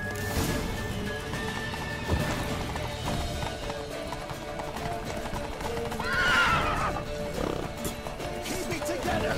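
Galloping hooves clatter steadily under a noisy action scene, with a horse whinnying loudly partway through and voices mixed in, in the video game The Witcher 3: Wild Hunt.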